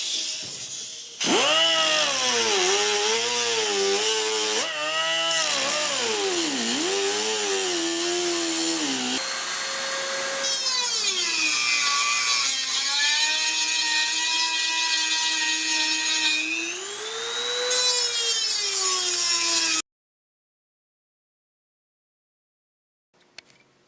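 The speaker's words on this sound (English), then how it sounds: "I use this thing to grind between them. And then if it's not enough, I'll use the Dremel to" Grinding metal pocket-bike forks with a Dremel rotary tool, a loud continuous high-pitched whine that rises and falls in pitch as the tool loads and frees up, running steadily for about twenty seconds before cutting off.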